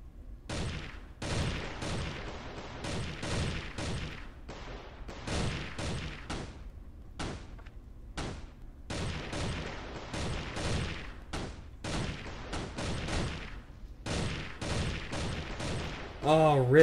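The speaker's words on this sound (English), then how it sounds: "Where are these shots coming from?" Shots ring out in the battle royale video game Crossfire: Legends, a long run of sharp gunfire bursts, some rapid like machine-gun fire, steady and fairly close throughout.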